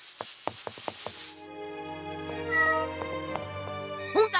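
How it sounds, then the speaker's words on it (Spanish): A black cat gives a clear, drawn-out meow that rises and holds, preceded by a few soft taps and ending in a quick shorter cry. "¿Un gato negro? ¡No!"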